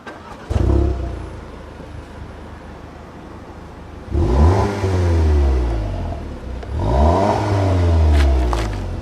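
An Audi TT 2.0 TFSI engine fires up, then revs twice in quick bursts, each climbing and falling back to a steady idle, close and loud.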